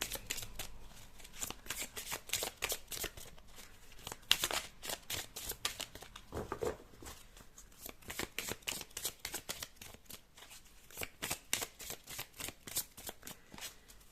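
Tarot cards are shuffled and drawn at close range, a quiet, steady run of papery riffles and flicks that repeat throughout, with no talking.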